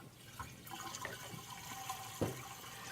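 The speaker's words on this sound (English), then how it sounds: "So just close the gate and then pour in the sugar water." Sugar water poured into an Italian ice machine, a faint gurgling, splashing liquid flow with small irregular splatters and a brief louder slosh near the end, heard alone and fairly quiet.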